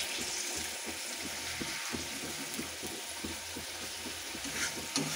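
Rohu (pona) fish in a tomato sauce simmers and sizzles steadily in a pan, a continuous close bubbling hiss with faint scraping stirs, no talking.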